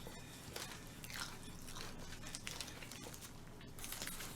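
Crunchy Goobne Gochu Basasak fried chicken is bitten and chewed close to the mic, with a quiet series of crisp crackling crunches and no talking.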